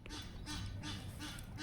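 Ducks quack in repeated bursts outdoors, several calls about every 0.4 seconds over a steady low rumble of background noise, fairly loud and close, with no talk.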